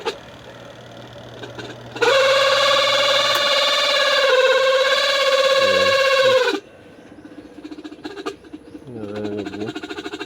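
A noisy washing machine spin dryer that struggles to turn lets out a loud, steady mechanical whine for several seconds, then cuts out, leaving a quieter rattling hum.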